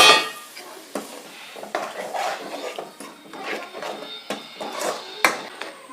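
Melted tamarind poured into a pan of spiced gravy and stirred, with repeated clinks and knocks of a utensil against the pan in an uneven rhythm, close and fairly loud, no talking.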